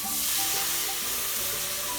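Milk poured into a pan of sautéed ingredients for a cheesy stuffed chicken dish, giving a loud, steady, close sizzle with no talking.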